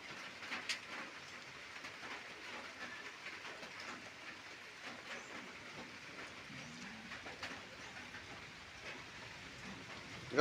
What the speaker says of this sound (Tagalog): Oh, ulan na sab.